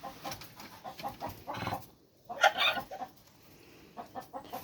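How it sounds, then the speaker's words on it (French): A red rooster hatched at home clucks and calls in a farmyard, with a run of close, throaty clucks and then a louder crowing burst. "Et là c'est mon coq-roux, donc qui est né à la maison"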